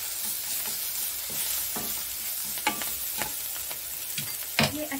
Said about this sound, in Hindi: अब हम इसमें ये लहसुन अदरक का पेस्ट ऐड कर देते हैं, इसे भी मिक्स कर लेते हैं अच्छी तरह से।